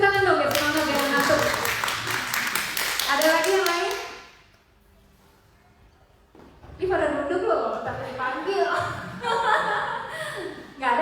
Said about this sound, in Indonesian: Kasih tepuk tangan dong biar semangat jangan ngantuk.